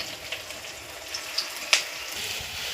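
Green chillies and three dried red chillies fry in oil in a pan for tomato chutney, a steady close sizzle broken by a few sharp pops and crackles.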